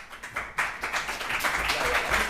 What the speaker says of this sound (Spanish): fuerte el aplauso, y Pepe, adelante.